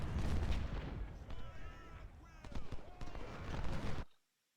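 Cannon fire and battle noise in the Ultimate General: Civil War video game, repeated booming reports and crackling musketry at a distance, with a voice talking over it before the sound cuts off abruptly.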